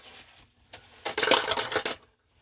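A metal spoon is wiped and rubbed clean, giving a few short metallic scrapes and clinks that cluster in a loud burst near the middle, with quieter rubbing before and silence at the end.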